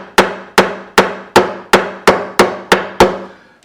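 A hammer knocks parts into an acoustic guitar during a sunken-belly repair, giving about nine sharp, evenly spaced knocks that are close and loud, each with a short ringing decay.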